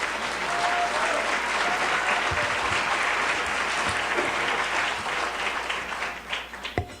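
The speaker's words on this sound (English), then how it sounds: "Another round of applause for Dr. Biden" An audience at the 2015 Aspen Prize for Community College Excellence ceremony applauds Dr. Biden, with sustained, dense clapping that fades slightly toward the end as a few last claps ring out.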